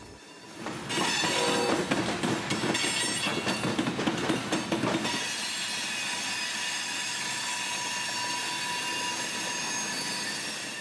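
A freight train of grain cars rolls past on the rails, starting with a loud rumbling clatter of wheels and squeals, then settling into a sustained, even roar as the cars keep passing close by.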